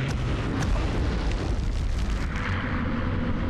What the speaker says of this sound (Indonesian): Dia lempar bom nih.